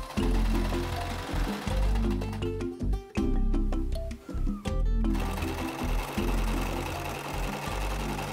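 Sewing machine stitching a dance costume in a seamstress's home: loud, close, rhythmic mechanical chugging in bursts of varying length, broken by short pauses and a brief clattering stop-start, with no talking.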